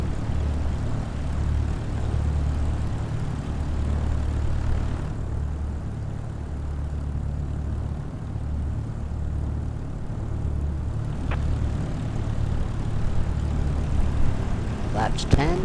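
Light aircraft engine in Microsoft Flight Simulator 2020 over Honolulu island: a steady, loud propeller drone with a low pulsing throb throughout, and a few faint clicks near the end.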